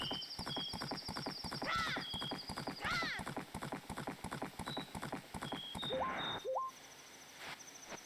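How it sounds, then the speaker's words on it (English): Horses in the video game The Legend of Zelda: Majora's Mask, with rhythmic clip-clop hoofbeats running steadily throughout and two loud whinnies rising over them, plus electronic game tones near the end. "I am getting annoyed of the constant neighing"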